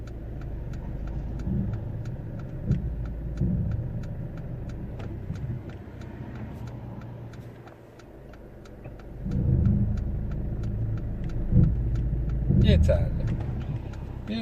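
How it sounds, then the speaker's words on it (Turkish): A car reverses slowly and under control during a driving-test route. Its engine gives a steady mid-pitched hum that swells slightly at times, with regular ticking over it and a voice speaking now and then. "O yüzden yavaş kontrollü bir şekilde geriye doğru devam ettirin aracı."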